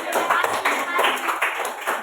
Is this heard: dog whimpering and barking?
no